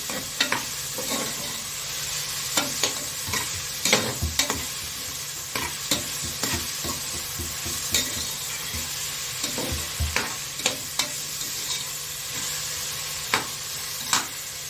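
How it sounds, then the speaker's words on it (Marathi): Spice paste and vegetables for undhiyu being sautéed and stirred in a pan, a soft continuous sizzle broken by repeated scraping knocks of the spoon against the pan, no talking. "या भाज्यांमध्ये आपण ही व्यवस्थित परतवून घेऊया."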